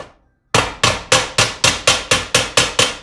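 Ten sharp, evenly spaced hammer blows strike the bolt holes of a 1968 Ford Galaxie 500 valve cover held in a vise, each hit loud and metallic with a ringing decay, following a brief quiet start.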